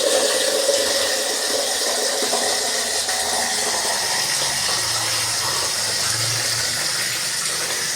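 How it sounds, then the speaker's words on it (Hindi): Water gushes at full force from a newly installed tap line, a loud, continuous rushing flow with a low mechanical hum beneath it and no pauses. "फुल रफ्तार से जो है ना पानी वगैरह इसमें चालू हो चुका है।"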